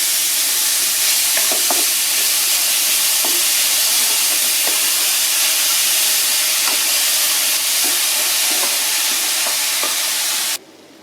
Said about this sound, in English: We'll saute these ingredients for around 1 to 2 minutes.